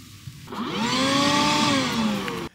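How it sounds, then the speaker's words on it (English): A wireless HEPA vacuum cleaner starts up with a rising whine, runs steadily for about two seconds nearby, then cuts off abruptly, with no talk. "The wireless HEPA vac has a remote control that will turn it on and off"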